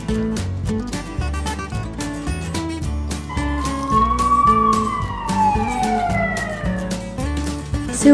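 A silver toy ambulance sounds its siren, a rising and falling electronic wail that rings clearly over a bouncy, rhythmic background tune.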